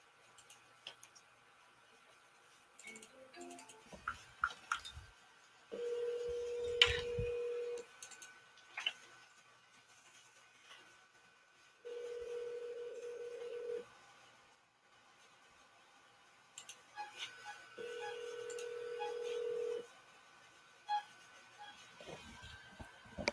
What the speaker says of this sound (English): Mira, try to call a few more.